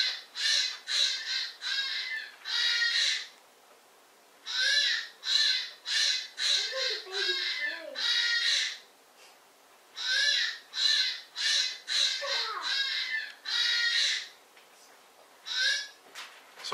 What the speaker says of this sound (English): to be able to have a predator call app and then to actually play that through this speaker